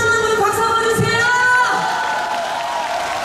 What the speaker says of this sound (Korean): 지훈이가 잘한다 하시는 분 박수 한번 주세요!